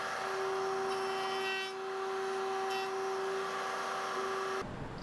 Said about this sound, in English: The chamfer bit didn't get into the corner, so I used the sanding block to clean them up.